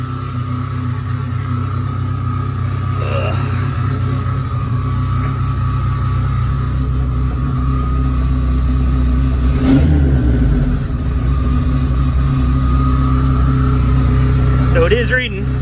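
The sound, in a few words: Dodge SRT-4 engine idling high and revving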